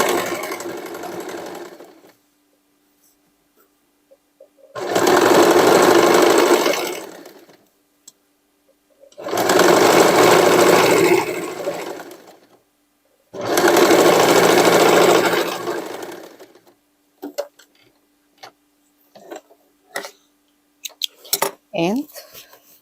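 A sewing machine stitches a denim hoodie made from old jeans in three loud bursts of rapid whirring, each a few seconds long and separated by quiet pauses, followed by light clicks and handling sounds.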